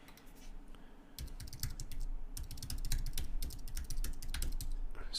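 Quick bursts of clicking keystrokes on a computer keyboard while signing in, close and fairly quiet, with short pauses between runs of typing.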